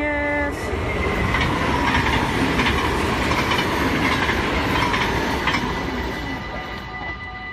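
A Dutch passenger train rolls past close by on the rails, a loud sustained rumble with rhythmic clickety-clack of wheels and faint squeals, beginning with a brief horn-like tone.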